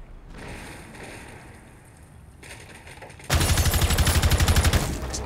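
Gunfire in the video game Rainbow Six Siege: after a low ambient stretch, a loud rapid burst of automatic shots rattles out steadily for about two seconds, up close.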